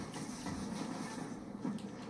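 Train passing in the Call of Duty Black Ops 3 video game, a low rumbling rail noise with faint clattering, quiet and steady over the short span with no talk.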